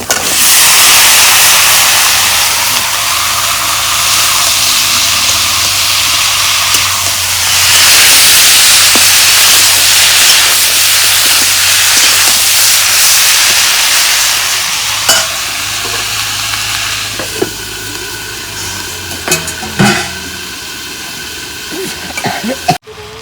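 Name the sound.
kohlrabi added to hot spiced oil, sizzling and stirred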